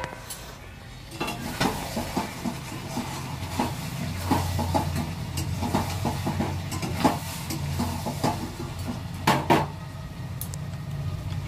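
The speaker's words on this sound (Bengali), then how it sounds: "এদিকে চিকেনটা একটু নেড়ে নিচ্ছি, নালে নিচে লেগে যাবে" Chicken frying in a pan is stirred, giving a continuous low sizzle broken by repeated scraping and clinks of a spoon against the pan at an uneven rhythm, fairly close and moderately loud.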